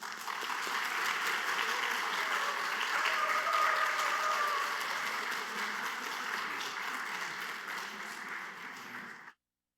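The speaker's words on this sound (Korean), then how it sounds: "우리 목사님 강단에 모실 때 뜨거운 박수로" A church congregation claps warmly at a 50th-anniversary revival service in Bucheon as the pastor is welcomed to the pulpit; even, continuous applause at moderate distance, stopping abruptly at the end.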